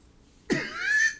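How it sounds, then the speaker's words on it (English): One short cough bursts out of near silence, followed by a brief trailing vocal sound. "I don't know where that cough came from."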